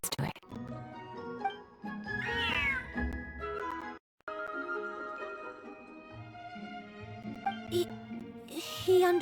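Cats meow repeatedly in the Genshin Impact video game, a series of drawn-out, wavering mews and one caterwaul-like cry set over soft game music, with a voice speaking briefly.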